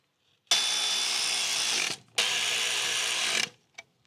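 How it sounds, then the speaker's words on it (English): A power tool whirs twice in steady bursts of about a second and a half each, bolting a part back down on a Range Rover, followed by a short faint click. "Go ahead and bolt this back down."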